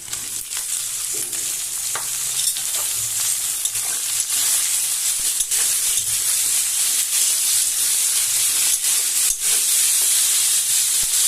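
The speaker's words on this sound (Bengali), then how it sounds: "পেঁয়াজটা ভাজা হয়ে গেছে, এবার আমি আলুগুলো দিয়ে দিচ্ছি" Potatoes go into a frying pan of hot oil with already-fried onions and green chili while cooking a drumstick flower ghonto, giving a loud, steady, continuous sizzle and hiss with occasional stirring clicks.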